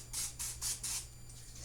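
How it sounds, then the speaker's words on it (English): Cooking spray hisses in four short, even bursts onto a 9x13 baking pan, then trails off into a softer final spritz, fairly quiet and close with a steady low hum underneath. "Spray your pan."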